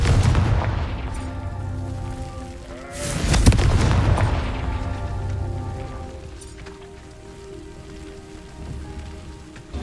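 A Confringo blasting spell detonates in Hogwarts Legacy, a loud broadband burst near the middle that swells and fades into a rumbling tail, over steady game ambience and music.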